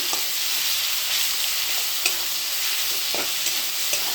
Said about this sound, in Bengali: ভালো করে মশলাটাকে কষে নিচ্ছি।